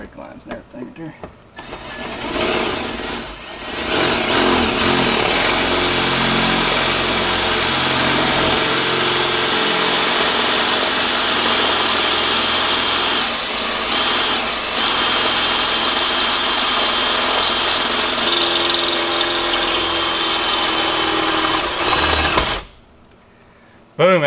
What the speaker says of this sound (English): I drilled the hole through this side and drilled it all the way through